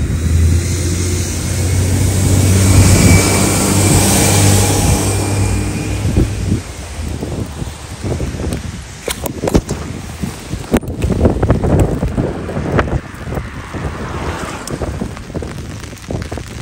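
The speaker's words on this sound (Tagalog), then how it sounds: "Sobrang lakas ng ulan." Heavy rain falls on a street in the UK, a loud, steady hiss with strong wind buffeting the microphone. Engine-like rumble and patter fill the first part, then scattered sharp drops and knocks continue.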